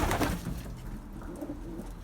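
Pigeons cooing in a coop at night, a soft, low, continuous murmur of overlapping coos close by, with a slightly louder burst at the start and no talking.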